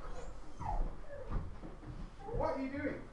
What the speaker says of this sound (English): Literally, there is nothing to bark at.